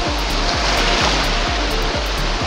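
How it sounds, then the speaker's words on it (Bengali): Sea waves wash in steadily at Tajpur beach during a calm, low-tide stretch. A loud, continuous surf roar fills the clip with low rhythmic thumps beneath it, and no voices are heard. "ঢেউটা একটু কম আছে, এখন অত জোয়ার নেই"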